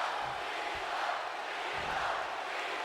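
Steady arena crowd roar from a WWE 2K20 Royal Rumble match in Universe Mode, the fans cheering John Cena as a continuous even wash of noise with no distinct peaks.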